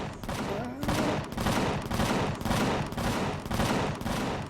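Automated base-defense turrets in Empyrion Galactic Survival blasting at attacking drones during a multiplayer horde night, loud steady rhythmic volleys of heavy gunfire throughout with no break.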